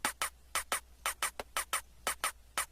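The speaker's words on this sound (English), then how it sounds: "Let's pitch the hi-hat up and turn down the length." Pitched-up, shortened hi-hat hits made from a Call of Duty ray gun sound tick in a quick, steady rhythm, a dozen or more crisp, fairly quiet bright ticks with no voices.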